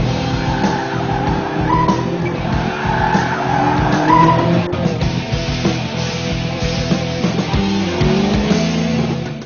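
A tuned car driven hard around a race track, tyres squealing and skidding through corners while the engine roars loudly and continuously from close by throughout.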